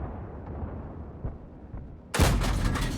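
Type 3 Chi Nu tank cannon firing in World of Tanks, a single sudden loud boom after a quiet rumbling stretch, with a ringing tail.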